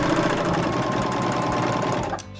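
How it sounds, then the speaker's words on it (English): A Baby Lock Vibrant serger sews a three-thread narrow stitch on fabric with a loud, fast, steady mechanical whir that stops abruptly near the end. "Now let's stitch on the other side of the fabric so we can compare the 2 stitches"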